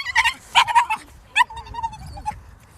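Puppies and dogs yip and whine in short high bursts, some drawn-out whimpers among them, fairly close, with low rumbling handling noise underneath.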